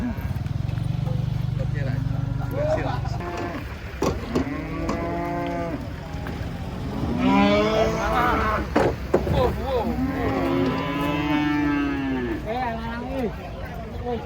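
Several drawn-out, low cattle moos come close by as cows are unloaded from a truck at the Karanggede cattle market, over a steady rumble, with people talking around them and some scattered knocks.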